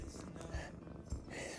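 Kitten purring softly inside a camper van, a faint, close, rhythmic rumble with a few light bumps and rustles around it.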